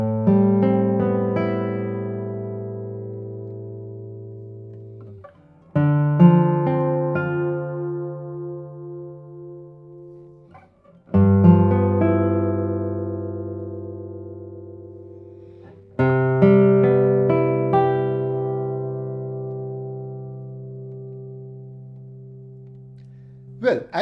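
Friederich classical guitar plucked in slow chord phrases, each strike ringing out with long sustain and gradually decaying before the next, clear and close in a quiet room.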